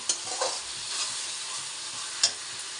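Mutton pieces fry in hot oil and spices in a pan, giving a steady close sizzle with a couple of sharp spatters and faint stirring.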